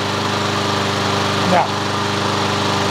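Honda lawn mower engine held at full mowing throttle, a steady continuous drone with even harmonic hum, close and loud, with a brief surge of higher pitched whine midway through.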